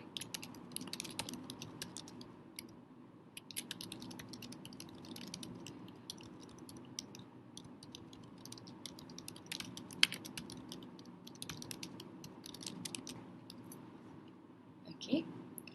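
Steady typing on a computer keyboard while entering text in an online test page, continuous soft clicking keys throughout with a couple of sharper taps, close and quiet, no talk.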